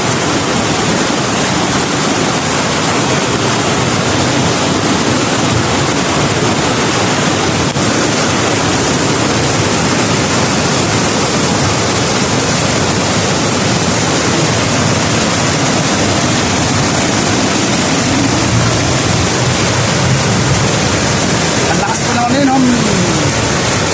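Rushing floodwater of the rising Marikina River, a loud, steady broadband roar of fast current carrying debris that continues unbroken, with a voice talking over it near the end.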